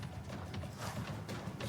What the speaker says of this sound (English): Heard footsteps.